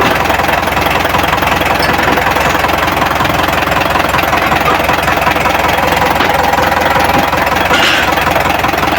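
Diesel engine of an Isuzu Elf or Mitsubishi L300 running after a full overhaul, a loud, close, steady idle with a continuous rattly knock and vibration throughout, no talk over it.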